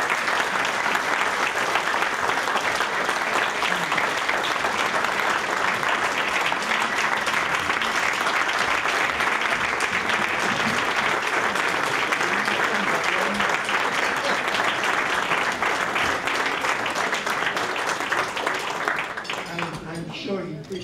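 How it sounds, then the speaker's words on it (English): A long, even ovation of audience clapping at a Chamber of Commerce installation event holds at full strength for around twenty seconds, then tapers off at the close. "let's really give this man a round of applause"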